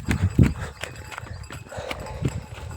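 A calf running loose on a farm, its hoofbeats thudding in quick uneven clops close by, strongest at the start and again briefly later, with faint background noise between.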